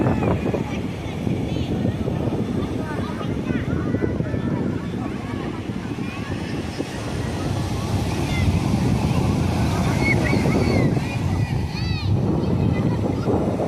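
Sea waves wash onto Chennai's Marina Beach, a broad steady surf roar mixed with wind buffeting the microphone, with people talking and crowd voices underneath.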